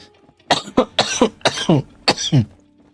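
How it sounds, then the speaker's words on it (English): A close, raspy fit of chronic coughing, about five harsh bursts in quick succession with brief pauses between them. "Gotta love my permanent cough."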